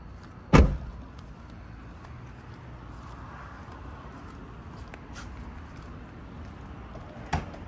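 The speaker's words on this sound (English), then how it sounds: "Sliding door is pretty cool." The sliding side door of a 2023 Airstream Interstate 24GT camper van gives a sharp, loud thud near the start and a second, lighter knock near the end, over a steady outdoor background hiss.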